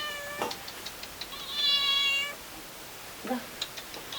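A cat meows several times, short calls followed by one longer drawn-out meow, then a couple more brief mews, close and clear.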